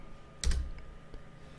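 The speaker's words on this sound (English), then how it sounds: "just hit enter on your computer keyboard" A single sharp press of the Enter key on a computer keyboard, close and clear, followed by a faint second tap, in a quiet room.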